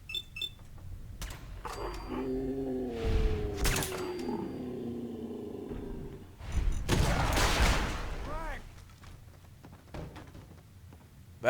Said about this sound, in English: That was a big fucking explosion.